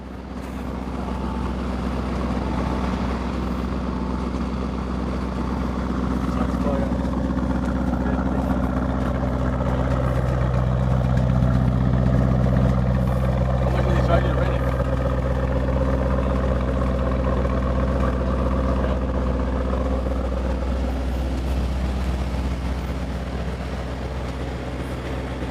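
Ford Raptor V6 EcoBoost engine with a persistent low oil pressure warning, running at a steady idle close to the listener: an even, low droning hum that holds unchanged throughout.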